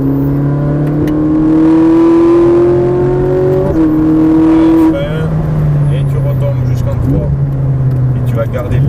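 Ferrari 458 Italia on a race circuit, engine held at a loud steady high drone that rises in pitch, drops at a gear change, then eases off and picks up again, with a voice talking over it.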